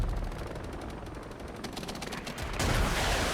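A regiment firing a volley in the RTS game Regiments, a rapid crackle of many overlapping shots. A heavier, louder burst of gunfire follows near the end.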